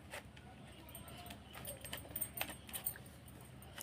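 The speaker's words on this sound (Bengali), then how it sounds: "তাই খুন্তি দিয়ে এখন ডাব কাটছি।" A green coconut is being hacked open with a kitchen spatula, heard as faint repeated tapping and scraping knocks that grow busier toward the end, with quiet background noise.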